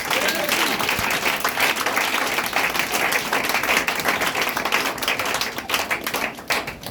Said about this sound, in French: Acclame encore puissamment.